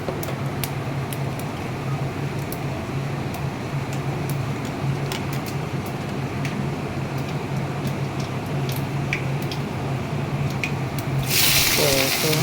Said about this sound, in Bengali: পাঁচফোড়ন তেলের মধ্যে দিয়ে দিলাম ফোড়নটা যেই হয়ে যাবে কেটে রাখা সবজিটা দিয়ে দিলাম